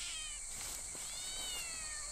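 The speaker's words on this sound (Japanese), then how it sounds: "なんか猫の声聞こえる。" Cat in the video game Shadow Corridor meowing in a faint, drawn-out series of high, wavering calls, heard alone over a quiet background hum.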